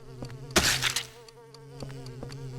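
Insistent buzzing of a fly in the video game Silent Hill 4: The Room on PS2, a steady droning hum with a louder burst near the start, alone without talk.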